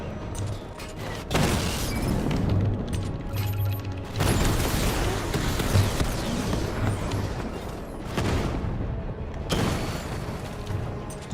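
A charged secondary-fire blast from a weapon in Batman: Arkham Knight lands as heavy booming bursts with crashing, mechanical rumble, several loud surges separated by brief dips.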